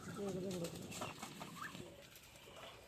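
Pigeons giving soft, low coos near the start, faint and close by, with quiet voices and a few light bird calls following.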